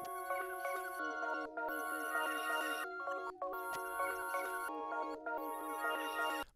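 Layered synth beat melody with ethereal pads and bell-like leads playing back in FL Studio, a dense harmonic loop with brief gaps and restarts, steady and loud with no talking.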